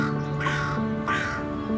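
Hooded crow in spring giving loud, harsh caws close by, two drawn-out rasping calls in quick succession.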